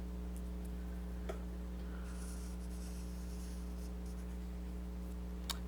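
A pencil traces around a candy cane on paper, a soft continuous scratching with a few light taps, close but quiet over a steady electrical hum.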